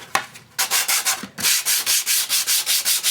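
A power sander working the edges of a rough cut wooden board for a wood album, giving a loud, close rasping hiss that pulses in steady, even strokes after a brief start, with no voices.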